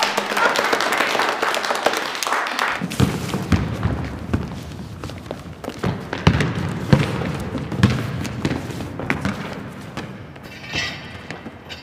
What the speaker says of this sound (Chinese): 来，大家鼓掌。